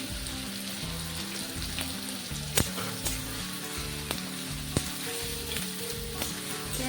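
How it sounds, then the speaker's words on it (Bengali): Onions fry in oil with a steady close sizzle, broken by a few sharp spoon knocks and scrapes against the pan, under soft background music and no voices. "পেঁয়াজগুলোকে ভেজে নেব।"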